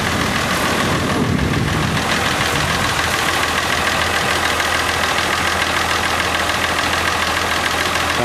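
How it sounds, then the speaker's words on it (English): A tractor engine runs loud and steady at a rumbling idle during unloading at a farm event, close by with no talk over it. "I'm getting a lot of guys unloading tractors."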